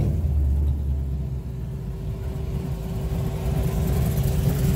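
A car arrives at a roll-in car show, its engine rumbling deeply and revving up at close range with a steady low drone.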